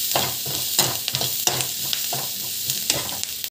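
Food sautés in a pan with pepper powder for an egg bhurji, a steady sizzle broken by rhythmic spatula scrapes and stirring knocks every half second or so, close and unaccompanied by talk.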